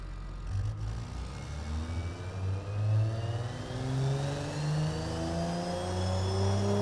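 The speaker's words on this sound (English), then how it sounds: "When that turbo kicks in, it kicks in." Turbocharged inline-six engine in the Automation car game revving steadily upward, with rising harmonic whine and a throaty drone that builds in pitch and loudness over several seconds, no voices.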